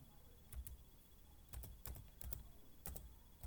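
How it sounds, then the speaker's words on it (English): Computer keyboard typing during Python coding work, coming as short bursts of several quick key clicks separated by brief pauses, close and fairly quiet over a faint steady hum. "Let me type it very well."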